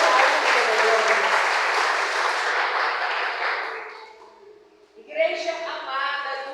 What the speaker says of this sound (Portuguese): Agora vocês dá uma salva de palmas para Jesus, porque ele merece toda a glória